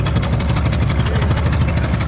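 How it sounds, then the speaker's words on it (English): A boat's motor idles while the boat is moored at a Bali shoreline, giving a steady, close, low rumble that runs without a break and with no talking over it. "Their motor is turned on,"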